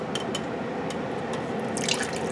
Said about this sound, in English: And here comes the coconut milk.